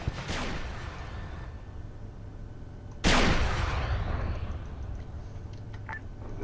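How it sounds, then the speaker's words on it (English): Gunfire aimed at a Sentinel in the Arma 3 video game: two sharp, loud shots a few seconds apart, each with a long rolling echo, and no talking. "Shoot the Sentinel some more."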